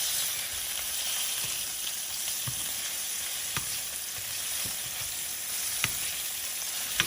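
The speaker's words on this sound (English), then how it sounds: "I'm going to pop the tofu in there. I just use this one to scramble it up." Tofu frying and being scrambled in a pan gives a steady, close hiss of sizzling oil, broken by occasional soft scrapes and taps of the utensil stirring, with no talking.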